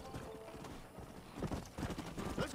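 Horse hooves clop rapidly in Red Dead Redemption, a quick irregular run of galloping footfalls, soft at first and growing heavier and closer toward the end.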